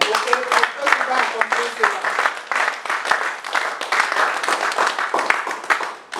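A church congregation applauds together, a dense, steady wash of clapping hands that holds for several seconds, with voices mixed into the clapping and a brief tonal sound near the start.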